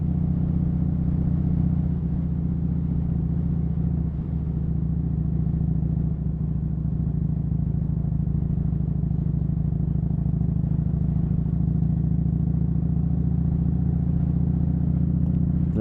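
A Harley-Davidson motorcycle rides along a scenic gravel road with a steady, loud, low engine drone and rumble, unbroken and close for the whole stretch, with no talking.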